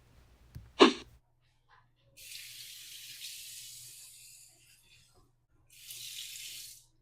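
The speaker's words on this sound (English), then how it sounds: "Temper the razor under the hot water" Running hot water from a tap pours in two separate bursts as a razor is rinsed at a sink, close and moderately loud, preceded by a sharp breath-like sound and a brief clatter.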